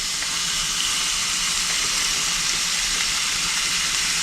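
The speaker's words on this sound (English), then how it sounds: "I'm going to put this in skin side down and cook it for like 9 minutes" Lemony chicken sizzles skin side down in a hot pan, a steady close hiss and crackle of frying fat that holds evenly throughout with no talking.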